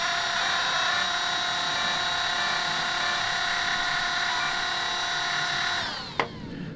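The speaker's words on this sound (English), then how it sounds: "So every time we hit the power on, these fans will come on." Dual cooling fans on an Arrma Senton RC truck whine steadily and loudly up close, holding a high, even tone before cutting off abruptly near the end with a small clunk.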